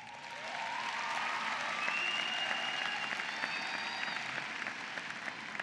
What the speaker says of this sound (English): Would the graduates please give them a round of applause?